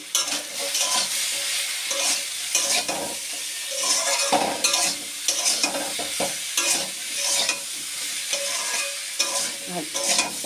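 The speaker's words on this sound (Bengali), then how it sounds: "ভালো করে ভাজা ভাজা করা হয়ে গেছে, বেশ কষানো হয়ে গেছে।" Cauliflower stalks with slit green chilli and salt are frying in a pan, with steady sizzling and repeated scraping strokes of a spatula stirring them, close and continuous with no talk.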